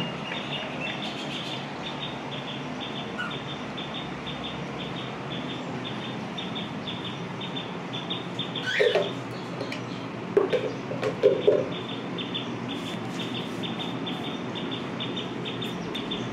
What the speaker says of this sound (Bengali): আমাদের অল্প কিছু পাখি আছে বারান্দাতে